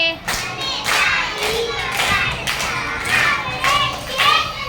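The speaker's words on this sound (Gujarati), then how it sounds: "મને તાળી વગાડતા આવડે છે" Schoolchildren clapping their hands during a Gujarati children's song, a fairly even series of loud claps, roughly two per second, mixed with children's voices.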